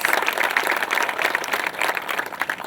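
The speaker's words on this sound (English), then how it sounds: "let's give the mayors and the City Council and all the leadership a great round of applause" A crowd at the grand opening of a tennis complex gives a sustained round of applause, many hands clapping in a dense, steady wash that stays loud throughout.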